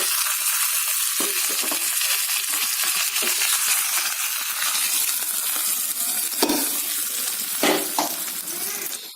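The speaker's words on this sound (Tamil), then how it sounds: "கடுகு, உளுத்தம்பருப்பு, கருவேப்பிலை போட்டு தாளிச்சு கொட்டிடலாம்." Mustard seeds, urad dal and curry leaves sizzle steadily in hot oil, a dense, close crackling with a few brief spatters and a soft clink or two near the end.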